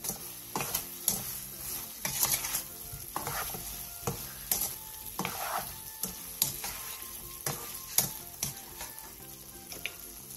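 A braised Korean side dish bubbles and sizzles in a pan as it is stirred after a spoonful of sugar goes in, with irregular utensil scrapes and knocks over a low, steady frying hiss, all fairly quiet and without talk.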